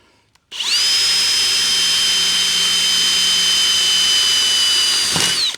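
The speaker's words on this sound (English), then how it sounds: "let's go ahead and see if we can get a drill hole in there" A power drill spins up sharply, drilling a hole while assembling solar panel rails, and whines at a steady high pitch for several seconds before winding down, loud and close.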